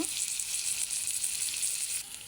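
Red lentils with a little turmeric frying in a pan, a close, bright continuous sizzle with faint stirring, briefly dropping in level near the end, no voice.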